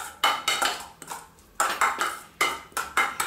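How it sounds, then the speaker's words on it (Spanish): A utensil stirs a tomato, onion and celery mixture with anchovy oil in a bowl for a stuffed-avocado filling, giving close, rhythmic clinks and scrapes in quick bursts with short pauses. "Entonces mezclamos los ingredientes"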